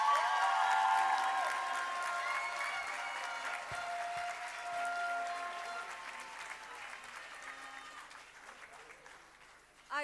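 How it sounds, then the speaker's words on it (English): An audience at a secondary school graduation ceremony applauds, sustained dense clapping from a large crowd in a hall that gradually thins and fades toward the end. "how about another round of applause for these amazing young people?"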